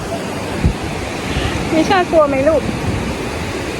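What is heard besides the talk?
ocean waves breaking on a beach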